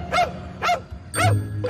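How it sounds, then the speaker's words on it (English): A dog barks repeatedly in sharp, piercing yaps, four loud close barks in quick succession with brief gaps between them, heard alone without talk. "Her barking is non-stop."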